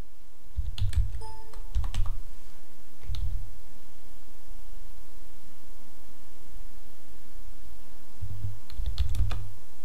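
A computer keyboard is typed on in short clusters of clicky keystrokes while a router command is entered, with pauses between bursts and a steady background hiss.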